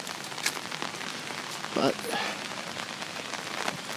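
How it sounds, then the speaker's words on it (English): Steady rain falls across an Amsterdam street as a soft, even hiss with scattered drops, moderately quiet, and a brief spoken word cuts in partway through. "apparently it is always fucking raining in Amsterdam."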